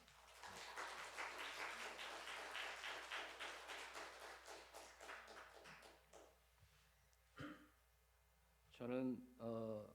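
A church congregation at a Wednesday service applauds to welcome a missionary, a dense, fairly loud crowd clapping for about six seconds before it fades out. A voice then speaks briefly.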